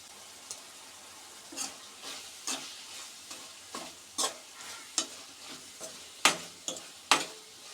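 Ginger garlic paste frying in a pan with cooked onion and tomato, stirred with sharp scraping clicks and a soft sizzle, about a dozen strokes spaced irregularly, close and moderately loud with no talking.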